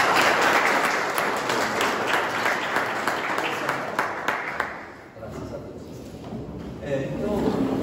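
A room full of people claps steadily for about five seconds, then the applause thins out into a few scattered claps and murmuring voices before picking up slightly again.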